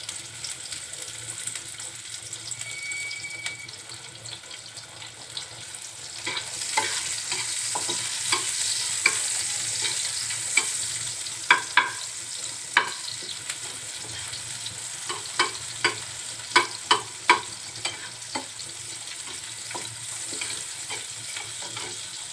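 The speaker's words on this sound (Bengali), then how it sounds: "একটু হালকা করে ভেজে নিব আরো দিচ্ছে পেঁয়াজ কুচি" Chopped onions fry and are stirred in a pan for masoor lentil dal. A soft hiss at first gives way to a louder sizzle with irregular scraping clicks from the spoon, all close up and without talk.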